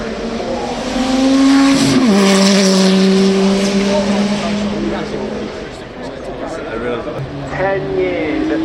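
A Porsche 911 reimagined by Singer climbs the Goodwood Festival of Speed hill, its engine note rising and dropping through gear changes as it passes close by, loud and sustained under a crowd's ambient murmur.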